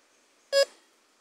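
A single short electronic beep from a Mineoro DCH 85 metal detector sounds clearly against a quiet background, then fades quickly.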